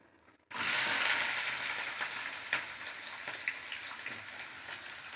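Onion, tomato, mint, coriander and curry leaves fry in a pan for kudal curry: after a brief quiet start a loud, close sizzle bursts in and carries on steadily, with scattered spatters and stirring scrapes.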